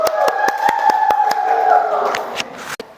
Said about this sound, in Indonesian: Panji silakan, tepuk tangan buat Panji.